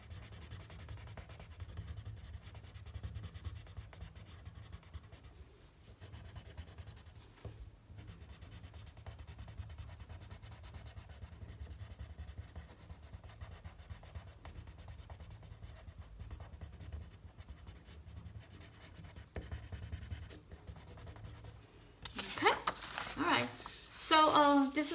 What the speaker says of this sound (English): So I rather just using the color pencil, just fill that in, just like that.